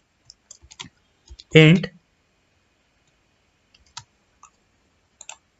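A few scattered, light key clicks from a computer keyboard sound near and quiet in a mostly silent room, along with a short spoken word.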